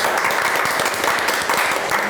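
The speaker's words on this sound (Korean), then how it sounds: "좀 격려의 박수 한번 보내드리고 싶어요." Studio audience applause of encouragement during a Buddhist monk's talk show, steady and dense clapping throughout, fairly close and loud, with no voices over it.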